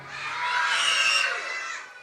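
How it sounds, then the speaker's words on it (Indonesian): A group of children shout together in a loud, sustained burst at an Islamic children's gathering, a dense mass of high voices swelling and fading over about two seconds. "Tapi nggak usah teriak-teriak ya, sakit nanti suaranya"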